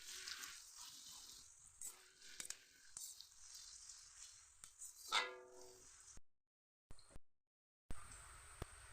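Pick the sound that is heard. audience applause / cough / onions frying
onions frying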